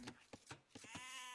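Sheep in the Age of Empires video game bleat several times in quick succession, faint and close together, with a longer wavering bleat at the end.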